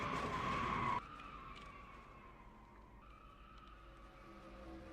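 A race car in a Daytona 500 sim race slides through the grass. A loud skidding roar cuts off after a second, then quieter engine drone and tire hiss continue.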